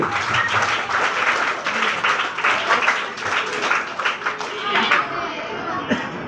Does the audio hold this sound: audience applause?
yes